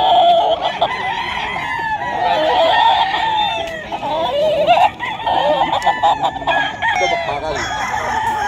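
Chickens and roosters crowded at a pet market in Bocaue, Bulacan, before dawn, with loud overlapping crowing and clucking close by and continuous bird calls throughout.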